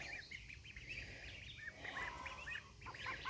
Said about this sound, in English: I have ducks.